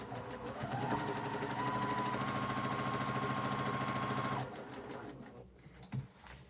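A sewing machine stitches fabric in a fast, even mechanical whir of needle strokes for about four seconds, then slows and stops, leaving a few soft clicks and handling sounds.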